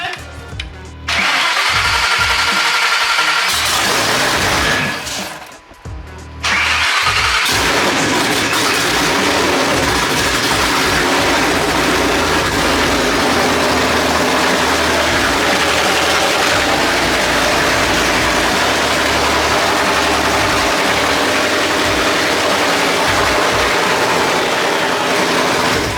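An 800 horsepower Shelby GT500 cranks over and fires up after a brief pause, then settles into a loud, steady, throaty idle that holds for over twenty seconds with no voices.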